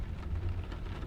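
Steady rain falls in misty Irish countryside, a soft, continuous wash of fine patter with a low rumble underneath, quiet and even across the short stretch.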